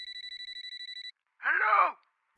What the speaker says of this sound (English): Why are there two phones ringing at once?